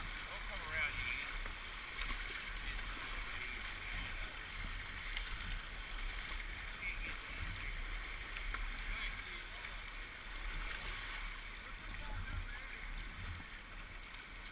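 A kayak is paddled on a river, with steady rushing water and wind noise throughout and a voice speaking faintly beneath.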